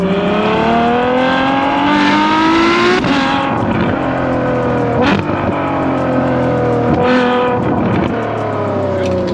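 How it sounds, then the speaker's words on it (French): A Ferrari F12 Mansory engine revs loudly with its exhaust valves open, climbing through several rising pitch sweeps with sharp drops between, close and powerful with no talking. "Donc là, vous avez la sonorité qui est ouverte. Donc les clapets d'échappement ouverts."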